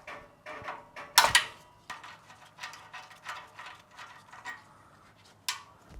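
A 10mm ground bolt comes off a 2022-or-later Subaru WRX with quiet metallic ratcheting and clicking, a sharp clank of tool against metal near the start and a few scattered taps after.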